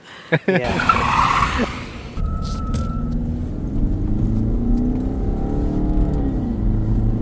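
A rear-wheel-drive Mercedes C250d with a 2-litre diesel engine accelerates hard with a short burst of tyre squeal and skidding. A steady, close engine roar follows and holds to the end.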